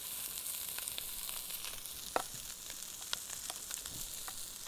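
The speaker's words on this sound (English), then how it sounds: "You can saute that a few minutes if you want." Tomato paste and cayenne sautéing in a pan for a lobster stock dish, a steady soft sizzle with a few faint clinks of the utensil, quiet and continuous with no speech.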